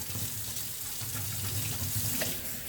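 Cold tap water runs steadily into a kitchen sink as freshly harvested garden produce is rinsed, a close, continuous hissing stream with faint clinks, no voices.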